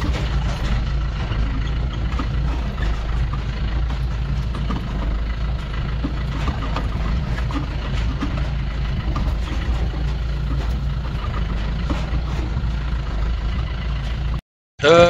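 Steady low engine rumble of a vehicle idling near roadside parking, continuous and fairly loud for about fourteen seconds before cutting out briefly.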